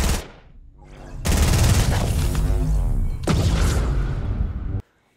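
Bursts of gunfire in Fortnite aimed at a mysterious cube, a sustained roaring volley from about one second in, a second surge near three seconds, then an abrupt cut to silence; no talking.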